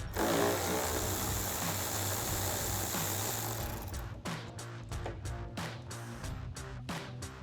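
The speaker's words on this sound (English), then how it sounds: "So I'll grab my 8mm socket for the first one." A power driver or ratchet with an 8mm socket removes headlight bolts on a 2018-2020 Ford F-150, whirring loudly and continuously before changing to a string of sharp rapid clicks.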